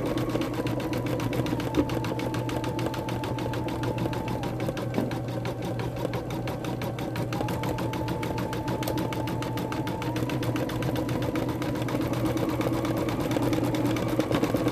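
An embroidery machine stitches a design on a dog bandana, its needle hammering in a rapid, even rhythm over a constant motor hum, close and steady throughout with no voices.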